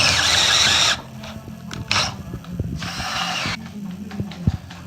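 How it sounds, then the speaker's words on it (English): A power drill bores into metal during an 80 Series Land Cruiser build with an LSX engine. A loud whining burst is followed by a pause with clicks and clanks, then a second drilling run and more scattered knocks. "It's like a whole episode of drilling."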